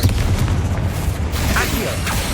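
Confringo blasting spell explosions in Hogwarts Legacy, a string of close, heavy booms and bursts packed into a couple of seconds, thick and loud with crackling debris.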